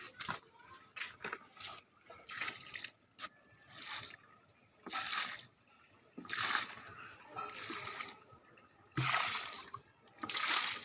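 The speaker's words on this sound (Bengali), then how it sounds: "হলো আমি এখন পানি দিতেছি।" Water splashes in repeated bursts onto garden plants such as banana, bean, papaya, gourd and coconut, each pour a few seconds long with short pauses between, close by and fairly loud.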